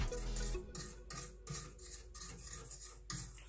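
A utensil rubs and scrapes around the sides of a pan of sugar heating over an outdoor bonfire, in a series of repeated rasping strokes about every half second, close and fairly quiet.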